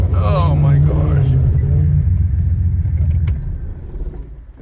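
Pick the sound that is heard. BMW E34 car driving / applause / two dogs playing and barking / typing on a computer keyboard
BMW E34 car driving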